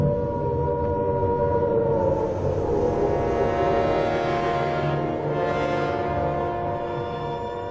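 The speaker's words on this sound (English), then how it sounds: "In Britain, the air raid sirens had sounded within minutes of Prime Minister Neville Chamberlain's anno" A loud, sustained World War II British air raid siren drones on without a break, its deep, rich tone holding steady throughout.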